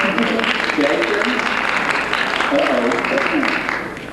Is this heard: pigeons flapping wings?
no